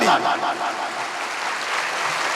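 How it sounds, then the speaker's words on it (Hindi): Loud, dense clapping from an audience at a motivational speech, a steady wash of applause that holds at full strength without any talking over it. "वहां से जोरदार ताली।"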